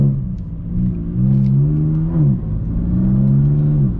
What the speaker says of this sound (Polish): Skrzynia zmieniła nam kolejne biegi, pomimo że ja w ogóle nie dotknąłem łopatek.